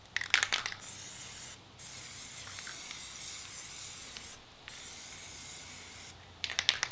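Plasti Dip aerosol coating sprays onto a Ford Mustang wheel in three long, steady hissing bursts separated by short pauses, close and clear, with a few rattling clicks from the can at the start and end.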